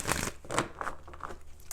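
Tarot cards being shuffled by hand, a few quick papery riffling and crinkling bursts in close succession, close and moderately loud.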